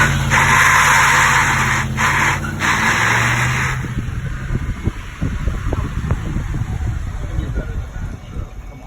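A parts truck held in first gear for a single-tire burnout: a loud roaring rev with a screeching spinning tire at first, then a rougher, bumpier engine rumble with scattered pops, close and continuous.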